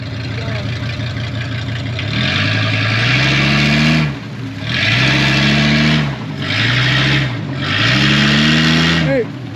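A stuck Dodge's engine revs repeatedly as it tries to back out, several rising surges separated by brief drops, loud and close over a steady outdoor rumble.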